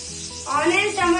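Onions and tomatoes hit a hot pan while making Maggi noodles, giving a steady close sizzle that swells louder and brighter midway and stays fizzing to the end, with no talking.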